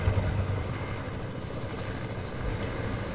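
Helicopter in a battle-royale video game, a steady low rotor and engine drone holding evenly throughout at moderate loudness, no speech.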